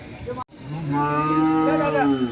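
A Holstein Friesian cow at a cattle market gives a long, low, drawn-out moo close by, rising and wavering before it fades, after a brief muffled bump at the start.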